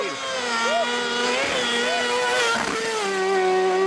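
Rally cars, including a small Peugeot, race past with strong engine tones that rise and fall and shift pitch, loud and steady through the moment, while excited voices exclaim over them.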